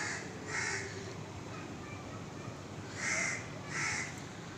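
Crow cawing three times in short harsh bursts, moderately near, against a steady hiss of outdoor background, while chasing a monkey from a neem tree.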